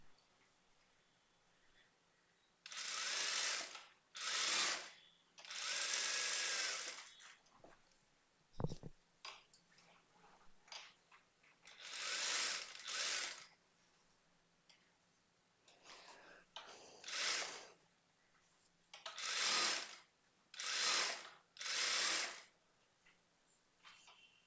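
A sewing machine stitching a blouse side seam in bursts, each run a fast whirring chatter of the needle lasting one to two seconds, separated by quiet pauses and a single sharp clack, close and moderately loud.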